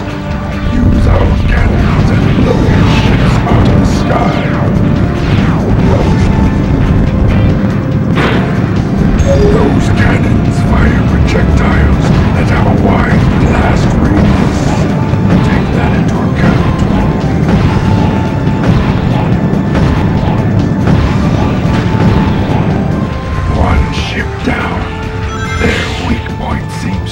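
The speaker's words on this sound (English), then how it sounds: "Use our cannons and blow your ships out of the sky." Cannon fire and explosions from the video game Shadow the Hedgehog, with repeated booms and crashes that blur into a dense, loud barrage under game voices and speech throughout.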